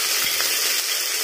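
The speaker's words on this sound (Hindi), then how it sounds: "अब हम डालेंगे इसमें अदरक और मिर्च का पेस्ट" Ginger and chili paste hits a hot pan and sizzles steadily with a bright, hissing crackle, close and continuous, alone with no talk.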